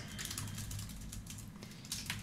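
Quiet, quick clatter of keys as code is typed on a computer keyboard, a steady run of soft close taps.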